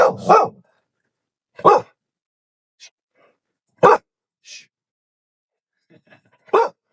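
A guard dog barks in short separate bursts, about five loud close woofs spaced irregularly with quiet gaps between, plus a couple of fainter yips and soft sounds.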